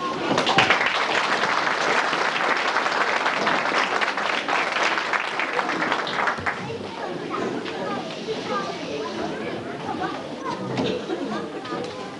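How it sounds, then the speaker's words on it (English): A school concert audience at a primary school in Kilwinning, 1995, claps warmly as the curtain opens. Dense applause fills the hall, then thins into a murmur of chatter. "I'm sure you will give them a very warm applause as the curtain opens."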